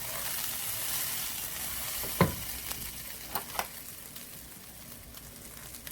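Grains for koshary, about four cups, being stirred in a pot, giving a soft steady frying-like hiss with a few brief scraping clicks of the spoon partway through; no one speaks.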